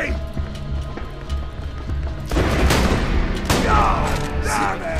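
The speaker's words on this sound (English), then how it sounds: "See why I wanted the shotgun?" Shotgun blasts in the video game Borderlands 2, several sharp loud bursts in the second half over quieter game ambience, mixed with scattered game sounds and effects.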